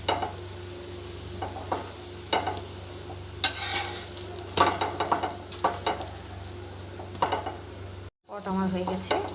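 Paratha frying in oil in a pan, crackling sizzle with repeated clinks and scrapes of a spatula on metal, a short break near the end before the sizzle resumes.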